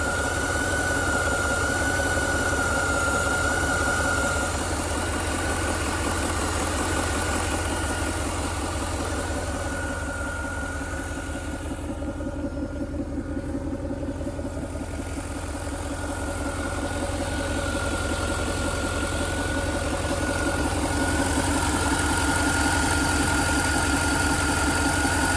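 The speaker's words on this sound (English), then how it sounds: "We'll hear a bit of a snarl here at idle from the exhaust" A Lingenfelter-modified 2010 Mercedes-Benz SL550 AMG roadster idles close up, its engine and exhaust giving a steady, even rumble with a slight snarl that runs unbroken for the whole stretch. No one speaks over it.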